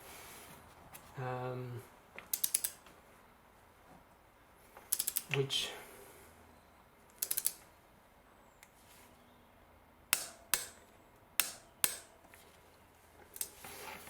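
Spark plugs on a Honda Jazz are tightened to torque, producing sharp metallic clicks in scattered short bursts near the mic, with quiet pauses and faint background noise between them.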